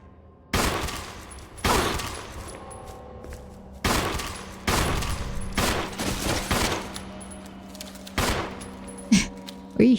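Loud gunshots in the video game Resident Evil 1 HD Remaster, a series of heavy booming shots and short bursts spaced a second or two apart, each with a ringing tail.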